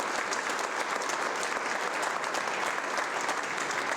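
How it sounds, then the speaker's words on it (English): Steady applause from an audience at a school's State of the School presentation, a dense, even patter of many hands clapping together, held at a moderate distance and unbroken for the whole stretch. "Let's give them a big round of applause."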